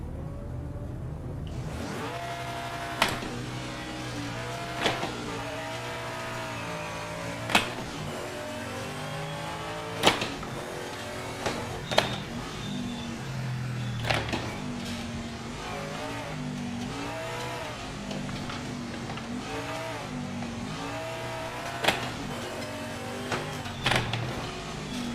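Race car engine from the Project Motor Racing game, a steady harmonic drone rising and falling through gear changes, with sharp clicks and thumps throughout; no talking.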